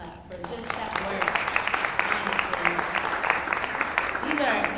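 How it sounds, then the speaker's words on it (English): Applause for community workers at a maternal health event, a steady patter of many hands clapping under ongoing talk. "I just want to just give them a clap for just that"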